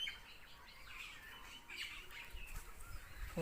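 Birds gathered in a huge old banyan tree to eat its fruit chirp and call faintly, many overlapping tweets over a soft outdoor background.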